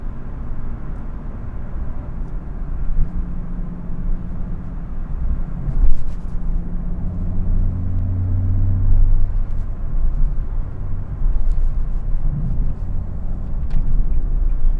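Nissan 370Z NISMO fitted with a Fast Intentions exhaust, droning steadily at around 2,500 RPM under load, a constant low rumble that swells slightly in the middle, with no talking.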